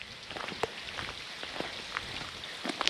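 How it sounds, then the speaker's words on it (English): Soft trickling and dripping water from small waterfalls inside a railway tunnel after rain, scattered drops echoing slightly in the enclosed space, fairly quiet throughout. "Oh, little waterfalls."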